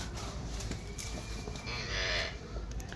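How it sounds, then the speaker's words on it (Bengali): Small dairy cows with their calves on a farm at Dohar, Dhaka district, Bangladesh, lowing faintly amid steady outdoor farmyard noise, with no clear loud moo standing out. "এগুলো গাভিগুলো ছোট ছোট গাভি"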